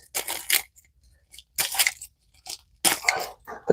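Dull scissors snip at plant branches on a homestead, producing isolated crunchy cuts in short bursts separated by silence, close and fairly loud.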